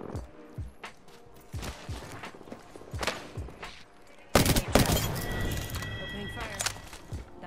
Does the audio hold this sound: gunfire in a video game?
yes